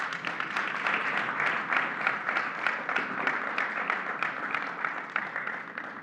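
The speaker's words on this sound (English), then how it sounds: "Let's give them a round of applause" Steady applause from a seated audience at a congressional panel event, many hands clapping in a dense, even wash that holds for about six seconds without speech.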